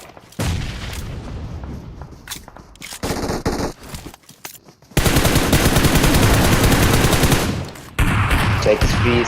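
PUBG Mobile gunfire comes in several bursts of rapid automatic shots, loud and close, with short pauses and quieter stretches between the sprays and one long sustained burst.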